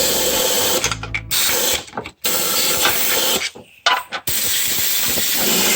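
Fluid Film rustproofing sprays hard into the inside of a Mitsubishi Delica frame, a loud continuous hiss broken by a few short pauses where the nozzle stops and restarts.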